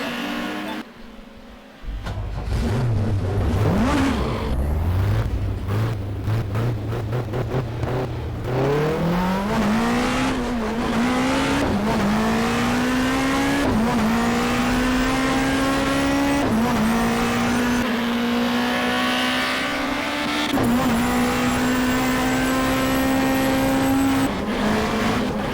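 BTCC touring cars racing in the GTR2 PC game: a loud, continuous engine note climbs and drops through gear changes, with tire squeal and other cars passing close by, no talk.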